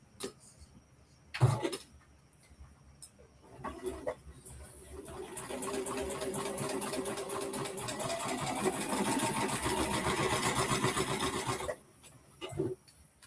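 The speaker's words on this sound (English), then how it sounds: "This is my gathering stitch." A sewing machine runs a long gathering stitch in one steady sustained burst of roughly eight seconds, with quieter handling and a few knocks before and after.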